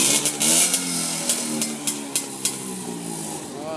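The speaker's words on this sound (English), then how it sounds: "Gotta love a vintage two-stroke." A vintage two-stroke engine runs nearby on a Chicago street, a steady buzzing drone with sharp popping bursts spaced through the clip.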